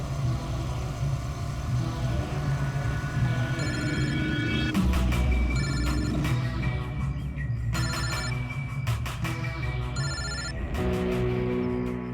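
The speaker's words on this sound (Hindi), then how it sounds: "Hello. Hello. Ji Alina ma'am" A telephone rings repeatedly in a tense police-drama scene, the electronic ring tone recurring in bursts over a steady low background hum, with no talk over it.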